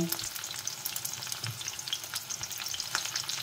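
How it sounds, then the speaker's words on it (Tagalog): Eggplant frying in hot oil, a close, steady crackle and sizzle with dense popping spatters throughout, no voices. "So, mainit na yung ating mantika. Lagay na natin yung ating talong."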